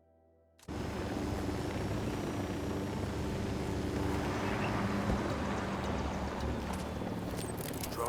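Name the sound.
drone taking off in Ghost Recon Wildlands video game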